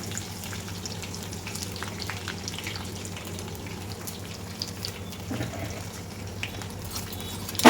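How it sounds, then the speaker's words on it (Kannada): Onions and garlic fry in a pan, making a soft, even hiss of oil that runs steadily throughout, with a faint clatter near the end and no speech. "ಇದನ್ನು ಒಂದು ಎರಡು ನಿಮಿಷದಷ್ಟು ಚೆನ್ನಾಗಿ ಫ್ರೈ ಮಾಡ್ಕೋಬೇಕು"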